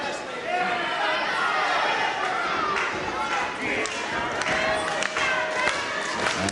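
Boxing arena crowd reacting with loud, steady disapproving chatter and murmurs as a fighter takes a beating, continuous dense noise throughout with occasional sharp knocks, a commentator speaking over it.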